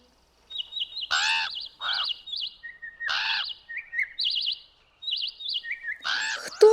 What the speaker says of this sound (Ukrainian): Так, правильно, це пташки.